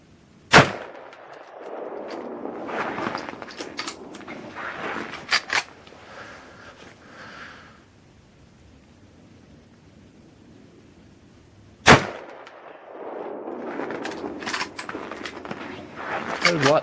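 Two booming shots from a .405 Winchester rifle loaded with 300-grain Spire bullets and fired offhand, spaced about eleven seconds apart. Each sharp report is followed by a rolling echo, with rustling and handling noise in between.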